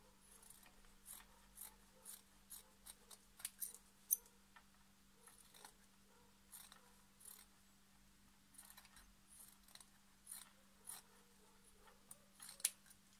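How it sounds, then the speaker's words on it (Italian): Scissors snip through fabric about half a centimetre from a seam while an Easter egg centrepiece is being made, giving faint, irregular crisp cuts spread across a quiet background with a steady low hum. "Taglio a circa mezzo centimetro dalla cucitura."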